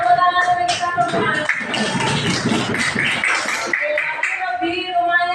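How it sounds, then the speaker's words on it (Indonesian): A class of young schoolchildren claps along in a rhythmic pattern, the claps mixed with the children's voices in a lively classroom. "tepuk tangan dulu kita semua"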